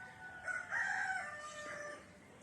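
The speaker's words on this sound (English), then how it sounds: "we even got a rooster" A rooster crows once at a distance on a farm with cows and hens, its drawn-out call rising and falling over steady outdoor background noise.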